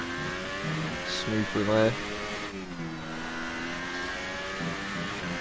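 McLaren race car in a racing game, engine note climbing and dropping through gear changes with a sharp rev burst, steady moderate drone beneath a commentator's voice.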